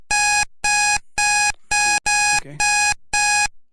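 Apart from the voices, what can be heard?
timer alarm going off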